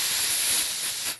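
A breathy, steady hiss of air blown through the lips, imitating compressed air spraying from an aerosol can, continuous and fairly loud for just over a second before tapering off.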